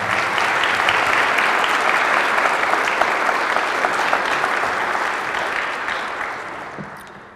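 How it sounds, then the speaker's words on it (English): Audience applause at a county State of the County address, a dense steady clapping crowd that holds strong before fading gradually over the last seconds. "You give a round of applause."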